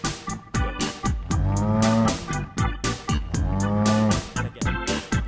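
A cow moos loudly and close by, two long drawn-out lowing calls with rich harmonic tones, each followed by shorter grunting sounds. No one speaks.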